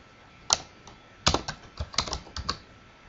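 Typing on a computer keyboard in a helpdesk setting: one sharp key press, a pause, then a quick run of irregular keystrokes close by, with no talking.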